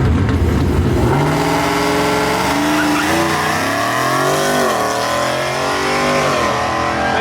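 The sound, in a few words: Ford Mustang S650 drag car launching down the track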